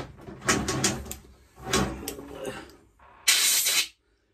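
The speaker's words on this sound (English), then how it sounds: "Just give it a good old spray, clean the stuff off," Bursts of hissing spray from an aerosol cleaner, sprayed onto a small engine part during a tune-up, come in several short close pulses, ending with one longer, brighter blast.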